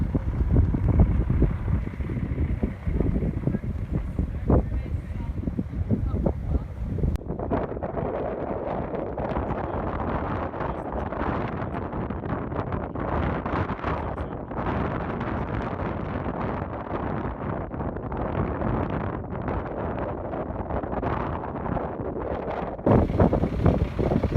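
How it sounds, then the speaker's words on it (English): Strong wind buffets the microphone in a continuous loud roar, with heavy low rumbling gusts throughout and no voices. "Very windy"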